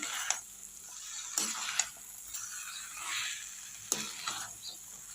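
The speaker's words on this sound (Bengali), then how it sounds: "আমি গরম মশলা দিয়ে নিচ্ছি ফ্রাই হয়ে এসছে" Potatoes for a vegetarian aloo dum fry with garam masala in a pan, a soft steady sizzle punctuated by a few sharp spatula scrapes and knocks, close up but fairly quiet.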